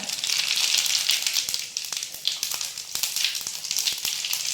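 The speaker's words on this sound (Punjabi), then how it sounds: "ਇਹਨੂੰ ਮੈਂ ਪਹਿਲੇ ਥੋੜਾ ਬਰਾਊਨ ਕਰਾਂਗੀ" Soya nutri chunks browning in hot oil in a pan with cumin, giving a steady, dense sizzle and crackle with occasional small pops, close and continuous throughout.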